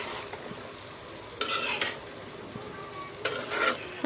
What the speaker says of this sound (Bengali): এবার আমি ভালো করে একটু নাড়াচাড়া করে দেব।